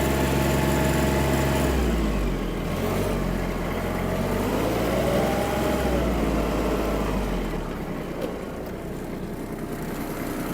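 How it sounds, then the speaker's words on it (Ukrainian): A Kubota GB-20 mini tractor engine runs steadily and climbs toward full speed, a continuous droning hum with a rising pitch that holds near and fairly loud, with no talking. "Даю газку. І отримуємо максимальну швидкість."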